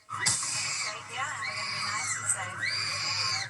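Panicked screaming and wailing of several people during a shooting, loud and sustained across the whole stretch, with overlapping high-pitched cries rising and falling.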